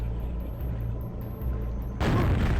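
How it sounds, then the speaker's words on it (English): A rocket-jump explosion in Quake 1.01 on the DM3 Abandoned Base map bursts as one loud, close boom with a rush of noise after a low, rumbling game ambience, and no one talks. "I just rocket jumped up here"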